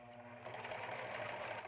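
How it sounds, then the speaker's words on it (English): A home sewing machine runs its automatic buttonhole stitch, giving a steady, close, continuous mechanical whir with a fast needle rhythm that picks up slightly in intensity partway through. "My sewing machine has an automatic buttonhole setting"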